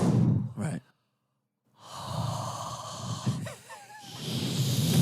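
A man vocally imitates a woman's heavy, exaggerated breathing in a steam room, producing loud drawn-out sighs and gasps separated by a short silence, with a few voiced, wavering breaths near the end.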